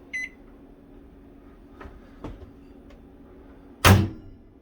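A short beep, then a few soft clicks, followed by a solid thud of a GE JVM3160 microwave oven door shutting firmly near the end.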